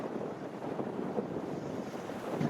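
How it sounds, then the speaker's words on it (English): Sea waves wash at Blackpool seafront by the North Pier, a soft, continuous surf wash heard at a distance, mixed with wind rumble on the microphone. "A view of the sea and the North Pier."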